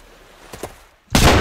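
A shotgun fires in a video game with a single loud, broadband blast near the end, preceded by two fainter, shorter bangs.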